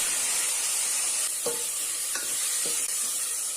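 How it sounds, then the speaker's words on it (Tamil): Tomatoes sautéing with chili powder in a pan, a steady close sizzle with a few soft stirring scrapes, no talking. "போட்டு நல்லா வதக்கிக்கோங்க. இப்போ நம்ம தக்காளி போட்டுடலாம்."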